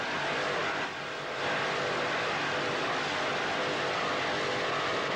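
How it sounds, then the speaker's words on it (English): An offshore racing powerboat's engine holds a constant high-revving roar under throttle on open water, a dense, steady wash of engine and spray noise at a moderate distance. "as soon as they hit that water, he's down on that throttle, maintaining the revs, which is constantly needed in racing."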